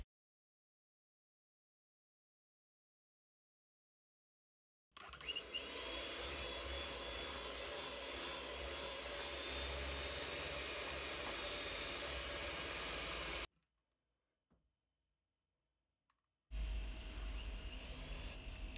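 An electric hand mixer whirs loudly and continuously as it beats mashed potatoes with milk, running for about eight seconds between stretches of silence, then starting again near the end.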